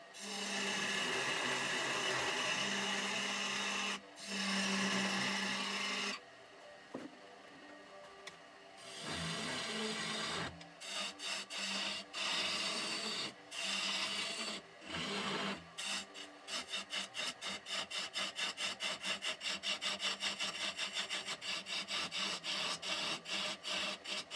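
Wood lathe turning a wooden vessel, a steady rasping scrape of the cutting tool with stops and restarts, ending in a rapid rhythmic chatter as the tool bounces against the spinning piece, close and loud.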